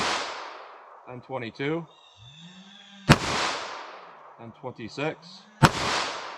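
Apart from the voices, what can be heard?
9mm full metal jacket shots from subcompact pistol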